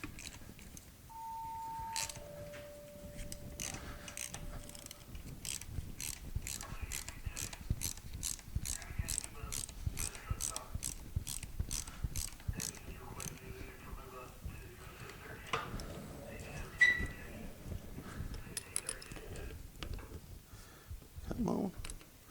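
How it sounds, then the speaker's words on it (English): A ratchet wrench tightens hex head fastening bolts on a Sidney lathe gearbox, giving long runs of quick, faint, regular clicks with a few pauses and a brief whistle-like tone early on. "Now we need to tighten up all of the fastening bolts for the hex head"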